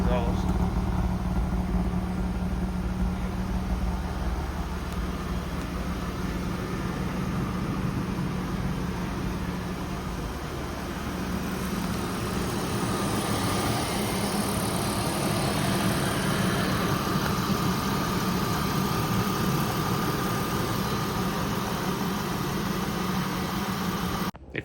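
A BMW E36 engine on its stock exhaust idles steadily and close by, a continuous low rumble that holds level for the whole stretch.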